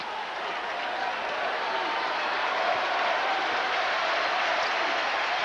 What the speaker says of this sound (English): the crowd urging the Blue Devils on